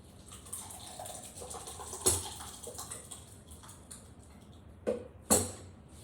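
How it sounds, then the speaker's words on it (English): Thick homemade salsa glugs and slops into a container with soft wet splashes, a few sharper plops and clinks standing out near the end. "I'm going to take this and pour some in this container."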